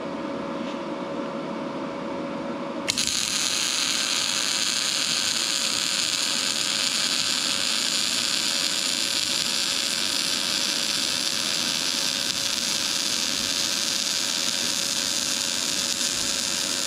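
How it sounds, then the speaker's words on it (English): A Yes Welder MIG-205DS MIG welder runs beads on a small cut triangle of roughly 1/8-inch steel, starting abruptly after a quiet moment into a loud, steady crackling and sizzling hiss that continues unbroken to the end. "We're gonna run some beads along this little triangle piece that I cut out and see how it works."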